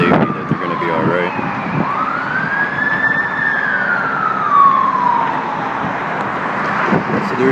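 Emergency vehicle siren wailing outdoors under an open sky before a rainstorm, one long rising and falling tone sweeping up and back down, moderately distant and steady over background noise.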